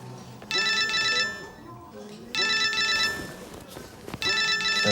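A telephone rings with an electronic ringtone from a private number, in repeated bursts of bright, warbling chirps separated by short gaps. Soft room noise sits underneath, and the rings are fairly close and loud.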